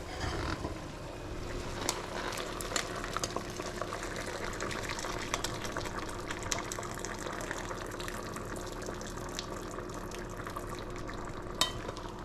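Stock poured into a paella pan of cooking rice, a steady sizzling, bubbling wash of liquid hitting the hot pan, close and continuous with small clinks.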